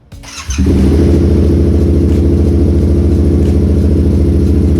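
A Yamaha MT-07 motorcycle, fitted with a new lithium battery, cranks briefly and then catches into a loud, steady, close idle that runs on evenly with no talking.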